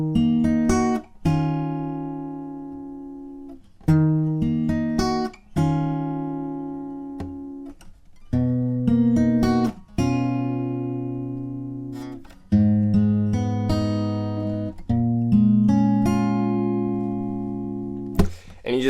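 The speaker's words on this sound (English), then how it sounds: "And altogether, the main riff will sound like this." Fingerpicked guitar plays the main riff of a song, clear and close, with bass notes and higher strings repeating in a steady pattern of short phrases, each ringing out before the next.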